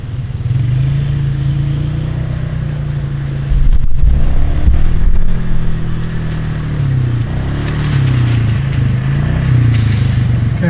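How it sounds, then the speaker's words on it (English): A four-wheeler ATV engine drones steadily nearby in a cornfield, its pitch rising and falling as the rider accelerates and eases off, loud and continuous throughout. "now there's a dude riding his four-wheeler back here"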